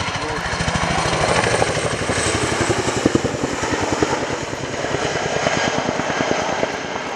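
An aircraft displays at the RIAT 2016 airshow at RAF Fairford, its loud, close engine drone pulsing steadily throughout, with a voice talking faintly underneath.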